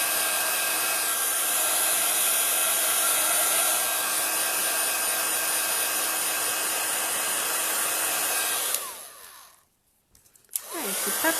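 A heat tool blows steadily from below to dry gold heat-embossing powder, a loud continuous whir lasting about nine seconds before cutting off, followed by brief quiet handling noises.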